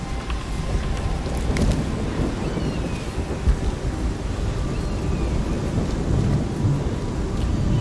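Heavy rain and rolling thunder in the video game Shadow of the Tomb Raider, a dense continuous downpour with low rumbling throughout, loud and steady with no talking.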